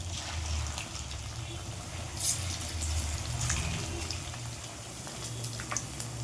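Fish pieces fry in hot oil for chilli fish, a continuous dense sizzle and bubbling hiss heard up close with a few faint clicks above it.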